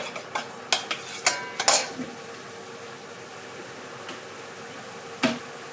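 Garlic and coriander root are stir-fried in a little oil for a braised egg and pork belly dish. A utensil clinks and scrapes against the pan in a quick run of strikes, then the sound quiets to a soft sizzle with one more clank.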